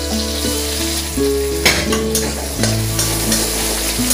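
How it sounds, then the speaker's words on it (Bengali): Chopped onions fry in oil left over from frying fish, giving a continuous close sizzle with scattered pops over steady tonal background music. "পেঁয়াজটা লাল লাল করে ভেজে নেবো"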